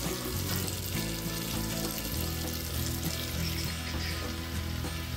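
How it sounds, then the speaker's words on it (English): Hot tap water pours into a bucket mixed with soap for washing raw sheep's wool, a steady close splashing gush with bubbly, churning texture and no voices. "I'm letting it run in hot water for a moment"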